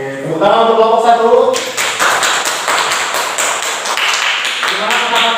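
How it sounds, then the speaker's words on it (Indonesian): A classroom group claps for the first presenting team, a spell of close, bright applause that follows a short spoken line. "Oke, tepuk tangan untuk kelompok 1."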